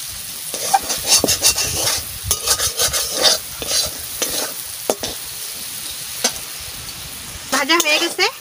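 Fish and banana curry fries in a pan with a steady sizzle while a utensil scrapes and stirs in short irregular strokes, close and fairly loud, with a brief voice-like sound near the end.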